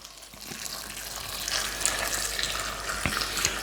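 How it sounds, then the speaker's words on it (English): Just-boiled hot water pours steadily into a vessel for blackberry wine, a continuous splashing hiss that grows slightly louder, close and alone. "Very hot water, just boiled about a few minutes ago."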